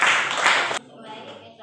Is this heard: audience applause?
yes